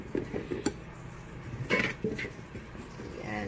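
A lid or cover is set over a container of sprouting mung beans with a few light clatters and knocks, close and moderately quiet, with some soft handling noise around them.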